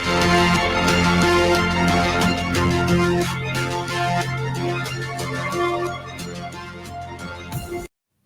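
Dramatic cinematic music track for a YouTube Premiere countdown, dense and loud with sustained low tones and driving percussive hits throughout, played alone before ending abruptly.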